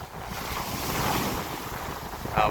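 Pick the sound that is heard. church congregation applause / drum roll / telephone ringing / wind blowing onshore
wind blowing onshore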